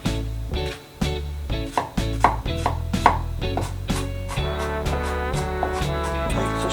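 Turnip greens being finely minced with a knife on a board for chicken dumplings, a quick run of sharp, rhythmic chops that then turns into faster, lighter taps, all over steady background music.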